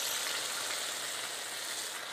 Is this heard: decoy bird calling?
no